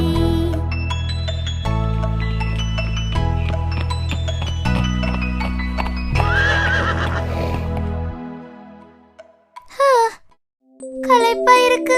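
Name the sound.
horse neighing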